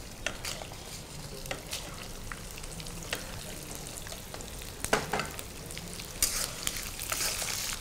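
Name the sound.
dried red chillies added to hot tempering oil, sizzling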